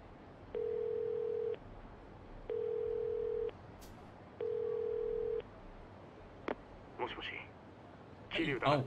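A phone's ringback tone in Yakuza 0, a payphone call from a street phone box, sounding as three steady long electronic tones at even intervals, followed by brief game sounds and voices.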